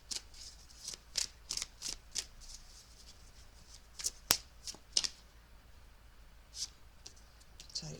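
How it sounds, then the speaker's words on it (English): A Rider-Waite tarot deck is shuffled and cards are drawn off the top, soft crisp flicks and riffling snaps in irregular clusters, quiet and close. "I'm just going to take 3 off the top. I'm going to use the Rider-Waite this time for the 3 cards."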